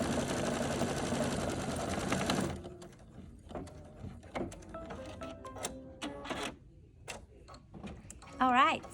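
An embroidery machine's rapid mechanical stitching on fabric whirs loudly for a couple of seconds, then stops, leaving scattered clicks and handling noises.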